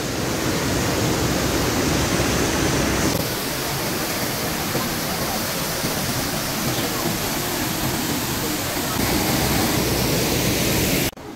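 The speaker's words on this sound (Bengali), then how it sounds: "আমার কথা হয়তো কিচ্ছু শোনা যাবে না এই ঝর্ণার আওয়াজে" A roadside waterfall on the way to Nathula roars as a loud, dense, continuous rush of falling water, close by and drowning out a voice speaking beneath it.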